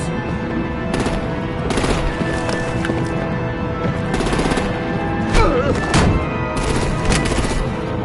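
Gunfire in the Telltale Batman game, repeated bursts of shots and impacts spread across a noisy action scene with a steady mechanical background, loud and close.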